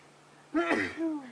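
A single sharp sneeze bursts out close by on a sunset safari drive, followed by a brief voiced exhale.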